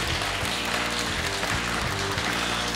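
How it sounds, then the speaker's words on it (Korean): An esports audience at a 2019 LCK Summer match between KT and Sandbox applauds during a post-game player interview, a dense continuous clapping that fills the space at an even level. "여러분 고생했다고 오늘 박수 한번 보내주시길 바랄게요"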